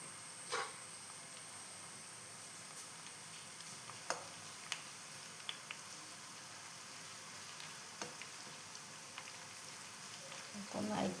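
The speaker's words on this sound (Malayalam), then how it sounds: "അപ്പം ഞാനിതിലേക്ക് ചുള വറുക്കാൻ വേണ്ടി ഇട്ട് കൊടുക്കുന്നുണ്ട്." Small batch of jackfruit pieces frying in hot oil for jackfruit chips, giving a faint, steady sizzle with occasional light ticks and crackles throughout, no one talking.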